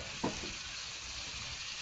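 Chopped tomato sautés with garlic in a pan, a soft steady sizzle heard close up with a brief clatter near the start.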